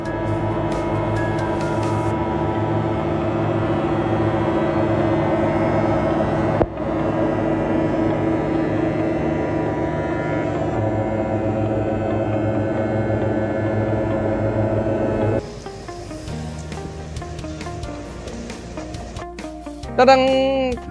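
A CNC ceramic tile cutting machine runs a straight cut with a steady, loud mechanical drone and layered whine, shifting pitch partway through and ending with a brief clatter.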